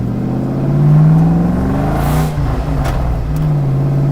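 A 4-valve 4.6L swapped Mustang GT engine revs up and settles, a loud near whirring drone that swells, dips briefly and holds again with no talk.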